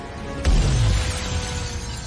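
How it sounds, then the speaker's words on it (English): A large glass window shatters as a car blasts out through it on a film set, giving a sudden loud crash with a low rumble beneath, followed by sustained noisy debris and background roar. "He turns and he just makes a beeline for the big glass window."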